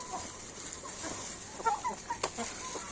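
Shamo gamefowl hens cluck softly in a farmyard at feeding time, several short scattered clucks rising over a faint hiss, a few louder ones bunched together near the end.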